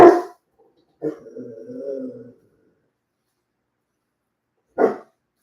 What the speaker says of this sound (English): What I'm not going to do is remake this video because my dog barked in it a little bit.